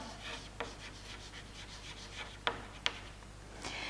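Pen writing out a chemistry problem on paper, soft continuous scratching strokes with a few sharp taps, close and quiet.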